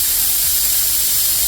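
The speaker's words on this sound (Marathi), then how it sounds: "तर आपल्याला कुकरच्या 5 शिट्या करून घ्यायच्या आहेत" Loud, steady hiss of steam escaping a pressure cooker's whistle, continuous and close, without a break while lentils and vegetables cook inside.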